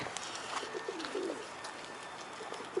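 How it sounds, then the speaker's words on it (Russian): Pigeons coo softly in short, low phrases outdoors near water where ducks and gulls gather, faint and fairly distant against quiet background noise. "Уточки тут, и голубки, и чайки."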